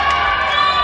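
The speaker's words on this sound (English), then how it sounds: "Big applause for one of the best photographers here on the event." Crowd at a women's beach handball match between Denmark and Norway cheering and clapping loudly and steadily, a dense continuous roar with no clear gaps.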